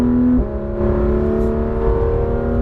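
A Porsche GT3 RS 991 on a racetrack downshifts under braking, its engine note dropping sharply once and then holding a loud, steady buzzing drone close to the microphone.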